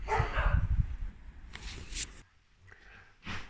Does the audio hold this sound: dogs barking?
yes